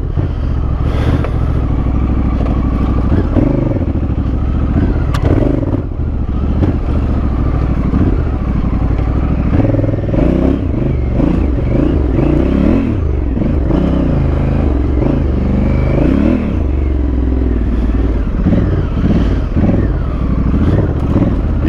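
Dirt bike engine revving and clattering steadily along a trail, loud and close throughout with gear changes and throttle surges, no talk.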